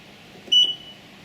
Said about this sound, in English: It's just one beep. That's all it has.